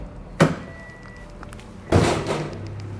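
A Toyota Corolla car door fitted with underdoor LED lights opens and bumps against a plastic machine: two distinct thuds about one and a half seconds apart, the second louder and followed by a brief rustle.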